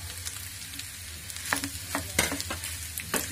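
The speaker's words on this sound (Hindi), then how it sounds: "इसको अच्छा से हम इसको फ्राई कर लेते हैं।" Mashed potato filling with powdered spices frying in a pan for aloo paratha, a steady low sizzle broken by several sharp scraping stirs of a spatula.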